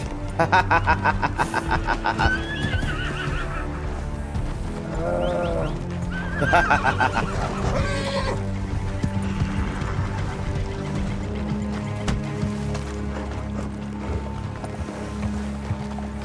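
A horse whinnies several times in a rising, wavering call amid a busy outdoor scene, with people talking and hoof movement around it.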